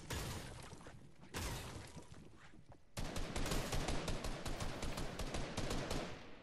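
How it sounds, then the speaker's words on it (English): Rapid gunfire in a shooting video game, loud bursts of automatic fire that stop briefly and then return as a denser stream of shots. "they can hear the shooting, that's fine"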